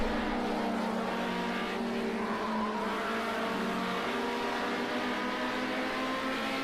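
Several 1973 BMW 2002 race cars in Project Cars 2 drive through a corner, their engines droning loudly and continuously with shifting overlapping pitches, close and steady.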